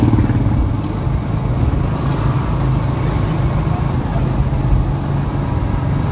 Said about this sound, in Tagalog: Gamit kong motor yung Suzuki GSX S150.